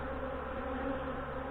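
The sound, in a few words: honey bees buzzing around a queenless hive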